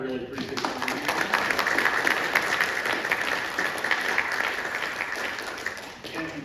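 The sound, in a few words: applause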